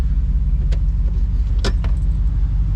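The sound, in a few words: Jeep Wrangler with swapped 6.4 Hemi engine starting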